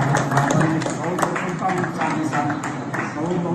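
Audience at an embryology class in India applauding after being asked to stand and clap, a dense steady wash of hand claps filling the room at close range, with voices murmuring underneath.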